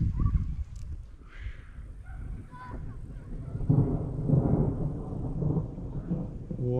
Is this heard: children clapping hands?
no